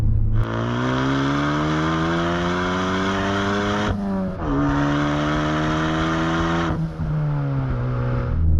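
Ford Focus ST engine with upgraded intake and exhaust, revving loudly and held at high rpm, dipping twice before climbing again, close and sustained with no talking.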